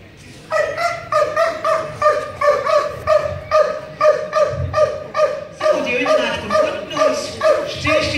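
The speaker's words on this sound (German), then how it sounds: "Personen müssen durch Bellen angezeigt werden, so dass der Hundeführer weiß, wo diese Person ist." A search dog barks steadily and repeatedly at a regular pace to indicate a hidden person, loud and close, with each bark evenly spaced across the whole stretch.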